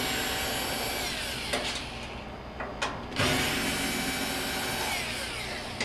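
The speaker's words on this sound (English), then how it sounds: "we're going to remove the mounting screws for the lid switch." A power drill removes the mounting screws of the lid switch on a Whirlpool washer, a steady close mechanical whir running throughout with brief pauses and surges as the screws turn out.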